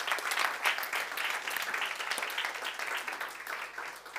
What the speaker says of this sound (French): Oh, tu peux applaudir, oui, tu peux applaudir, je te donne l'opportunité.